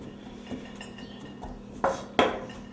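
A knife chops fresh herbs and spices on a board, a couple of sharp clicking strikes near the end over quiet kitchen background.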